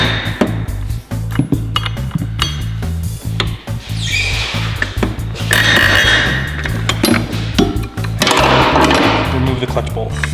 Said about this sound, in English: you're gonna use a 21mm socket, 12 point, and you're gonna loosen the clutch bolt